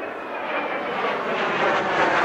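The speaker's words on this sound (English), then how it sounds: "After what seemed like a long absence, Allied aircraft soared overhead." Allied aircraft pass overhead as a steady, broad engine roar that swells slightly, sustained and fairly loud with no voices.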